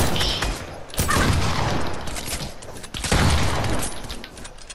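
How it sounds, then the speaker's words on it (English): Bursts of gunfire in a Fortnite free-for-all match, several sharp volleys of shots crackling up close with mechanical clatter between them, loud and dense across a few seconds. "I said I wouldn't shoot you, Josh!"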